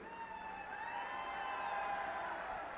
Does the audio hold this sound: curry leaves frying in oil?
no